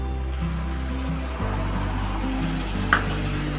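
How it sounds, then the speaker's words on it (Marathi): Milk poured onto fried barnyard millet in a hot pan gives a steady sizzling hiss with a low pouring rush underneath, close and continuous, with a brief clink near the end. "इथे मी एक कप दूध घेतलेलं आहे ते टाकून घ्यायचं"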